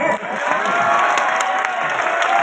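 A crowd at a Sambalpuri Kosli poetry recital at Gaisilet College claps steadily and loudly throughout, a dense wash of applause with a few scattered cheers mixed in.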